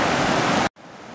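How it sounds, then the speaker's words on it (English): A strong river current pours over a small falls, loud and steady broadband rushing that cuts out abruptly for a moment, then resumes quieter. "The current could carry you right down over that small falls there."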